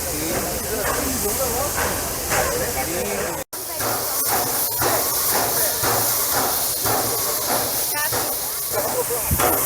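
Steam locomotive hissing steadily during coupling at a Maria Fumaça tourist train station in Bento Gonçalves, a loud continuous broadband rush with a brief cutout midway and voices talking over it.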